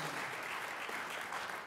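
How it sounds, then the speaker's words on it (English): An audience applauds steadily for a sword-swallowing act at a ragtime variety show, a dense, continuous clapping that fills the whole stretch without a break. "Yeah, the applause for the lady."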